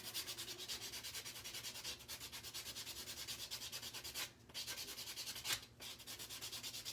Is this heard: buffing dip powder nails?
yes